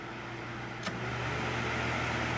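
A steady low hum of a small Vornado air circulator fan running quietly on its low setting, with a faint brief click near the start.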